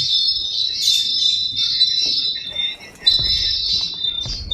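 Loud, piercing bird squawks and shrill calls dominate almost continuously, a tame creature in an ARK survival game session, with brief low rumbles underneath.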